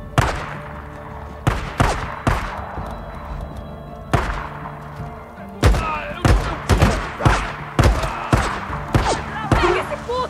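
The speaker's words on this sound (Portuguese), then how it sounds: "Mano, foi uma granada. Eu achei que era uma granada pequena. O cara me explodiu." Sharp blasts and heavy thuds from a grenade and gunfire in the post-apocalyptic video game Days Gone, a string of loud impacts spread across the clip, bunched close together toward the end.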